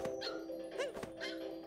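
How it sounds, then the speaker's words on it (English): A dog character in Super Mario Odyssey gives a few short yipping barks in quick succession, with game voices and sound effects mixed in, fairly close and clear. "That's a dog wearing a hat."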